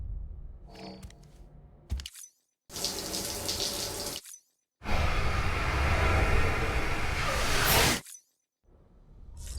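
Shower water rushing in Death Stranding, two steady loud bursts of spray separated by brief silences, with quieter splashing sounds at the start and end.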